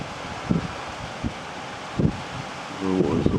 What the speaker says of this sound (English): I'd say it's very, very windy, so you might not be able to hear me